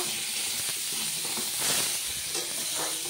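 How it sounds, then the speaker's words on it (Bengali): Raw green banana frying in hot oil in a home kitchen, a steady close sizzling hiss that swells briefly now and then, with no voices. "কাঁচকলাটা ভেজে নেব।"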